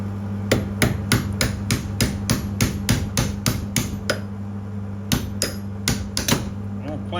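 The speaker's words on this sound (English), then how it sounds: "Got a little hammer here." A small hammer strikes a metal Craftsman half-inch drive breaker bar in a steady run of sharp, ringing blows, about a dozen close together, then a short pause and a few more hits over a constant low hum.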